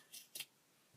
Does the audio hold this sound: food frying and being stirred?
no